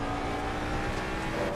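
A race car engine runs on throttle during an out lap at Spa in a racing sim, a steady mid-level engine drone that holds without a break through the short stretch.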